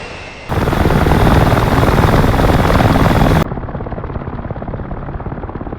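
F/A-18C Hornet jet flying low through mountains in the DCS World flight simulator, a loud steady engine roar that suddenly drops to a quieter, muffled rumble partway through, with no talking.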